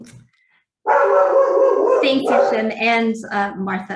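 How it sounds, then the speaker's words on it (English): A house dog barks and yips in a few short bursts close by, mixed in with a person speaking over it. "That's my dog again."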